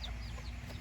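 A backyard hen on a small self-sufficient farm gives a brief, close cluck amid rough background noise.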